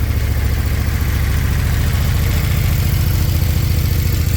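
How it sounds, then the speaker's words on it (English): A 2014 KTM Super Duke twin-cylinder motorcycle engine with stock exhaust idles close by with a steady, low, lumpy throb, running evenly and fairly loud with no talking. "not going to have that raucous growl that you would normally associate with these twin-cylinder motorcycles"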